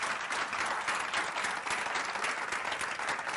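Dense, steady applause from a conference audience at an opening keynote, many hands clapping continuously and fairly loud throughout, with no voices standing out.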